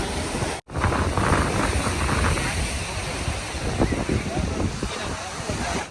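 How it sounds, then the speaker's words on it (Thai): Strong sea waves and a hard wind at Bang Saen beach make a loud, continuous roar of surf with gusty wind buffeting the microphone, and someone talks over it. "คลื่นน้ำมันแรง ลมแรงมา"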